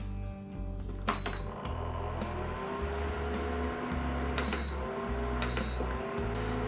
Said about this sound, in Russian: Включаем индукционную плиту на малую мощность